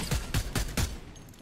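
Rapid gunfire from a weapon in the video game Fortnite, four loud bursts in quick succession, then fading off.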